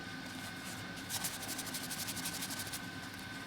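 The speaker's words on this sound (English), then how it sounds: "Take the rub and buff and you just rub it." Rub 'n Buff wax finish is rubbed onto a pendant with a quick, rhythmic, close-up scrubbing sound that starts partway through over a constant faint hum.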